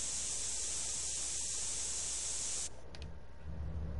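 A spray can sprays graffiti in the video game GTA San Andreas, a steady loud hiss lasting several seconds that cuts off, followed by quieter ambient noise.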